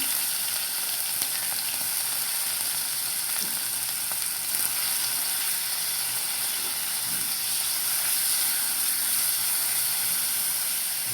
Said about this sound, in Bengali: এখানে লাগবে সরিষার তেল সামান্য পরিমাণে এই মাংসটা ভাজার জন্য একটু হালকা ভেজে নিতে হবে